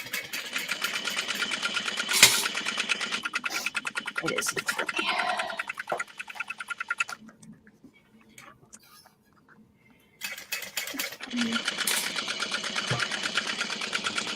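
Sewing machine running a line of topstitching in bursts, with short talk over it, a pause, then more stitching at close range.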